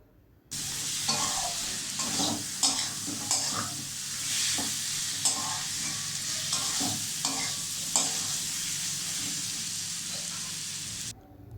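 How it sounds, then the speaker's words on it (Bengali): Fried potatoes being stirred into a spice masala for a Bengali Shankar fish curry, a steady close sizzle with repeated scraping and clinking of the spoon against the pan, continuous throughout. "প্রথমে আমি ভাজা আলুটা দিয়ে দেবো আলুটা দিয়েও ভালোভাবে মশলার সাথে কষিয়ে নেব"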